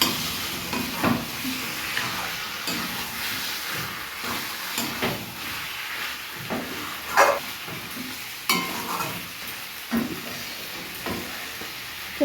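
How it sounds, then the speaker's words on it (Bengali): Sautéed chicken sizzles loudly in a pan as water is poured in, a continuous hiss of steam and frying punctuated by sharp clinks and scrapes of stirring. "কষানো হয়ে গেছে, এবার জল দিয়ে দিই।"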